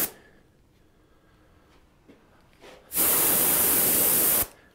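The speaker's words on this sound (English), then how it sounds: "As I say that, I keep spraying" A can sprays dark brown paint onto a wooden thoroughbred horse in one loud, steady hiss lasting about a second and a half, with a few faint clicks and rustles before it.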